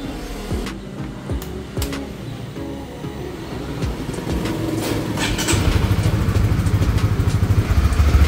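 A motorcycle engine idles steadily right after an AMS oil change, a close, smooth and even running sound that grows slightly louder and fuller toward the end, with no talking.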